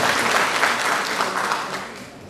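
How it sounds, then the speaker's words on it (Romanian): Brief burst of dense audience applause at a school oath-taking ceremony, loud and continuous, fading slightly toward the end. "Aplauze, cum să nu?"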